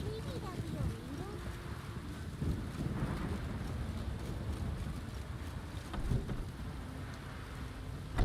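Steady rain hiss in The Witcher 3, a dense wash of drops with low rumble underneath, continuous at moderate level for several seconds with faint low pitched voice-like tones blended in.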